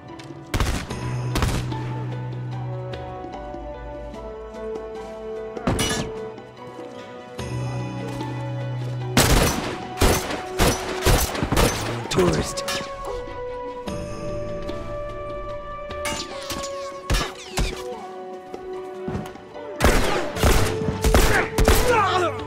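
Rifle gunfire in The Last of Us multiplayer, a string of sharp loud shots in irregular clusters and rapid bursts over about twenty seconds, with tonal game music and quiet gaps between volleys.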